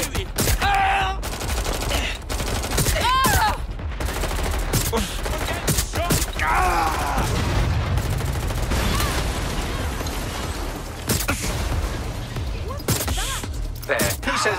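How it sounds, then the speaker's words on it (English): Dense gunfire in the video game Watch Dogs: Legion, rapid overlapping shots and automatic bursts cracking loudly and continuously for the whole stretch, with voices speaking over the shooting. "They won't stop shooting."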